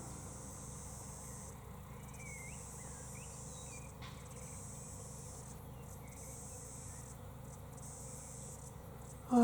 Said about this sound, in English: I can hear bees up in the Osage Orange tree.